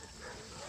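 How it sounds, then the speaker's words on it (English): Dogs barking in the distance on a farm in Nicaragua at night, faint and continuous under a steady outdoor background hiss. "You can hear the dogs barking"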